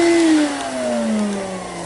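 An old but strong Electrolux Guardian Aerus Model 134 vacuum cleaner motor runs with a steady loud whine, its pitch sliding slowly downward as it winds down slightly, with no talking.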